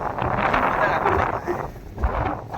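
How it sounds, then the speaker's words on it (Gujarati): Strong wind after rain buffets the microphone in loud gusts in a village, rumbling and roaring with a brief lull near the end, and a voice is faintly audible underneath. "પવન તમને દેખાય છે મારા વાળ ઉપર"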